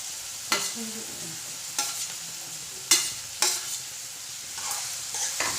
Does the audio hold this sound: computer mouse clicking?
no